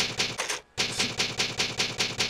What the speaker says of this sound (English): Damn, that's a whole lot of typing.